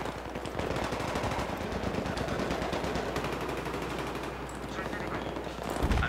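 Rapid automatic gunfire from Battlefield 3 video game combat, dense continuous bursts filling the whole stretch with a loud burst near the end, with faint talk in the background.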